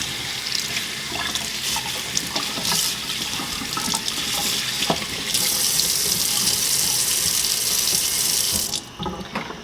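Water runs from a tap as a soapy towel is rinsed under it, a steady loud splashing stream with intermittent sloshing and a brighter hiss toward the end before the flow cuts off.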